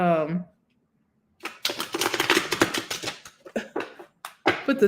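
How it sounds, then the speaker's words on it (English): Tarot cards being shuffled by hand, with rapid papery riffles and clicks that run for several seconds, close and moderately loud, after a brief voice at the start. "Let me go ahead and shuffle the cards"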